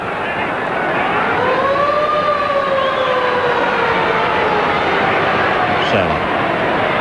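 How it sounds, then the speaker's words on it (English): A rugby league half-time siren wails in rising and falling sweeps over a noisy stadium crowd, the tone sliding up and then dropping away near the end. "Half-time siren."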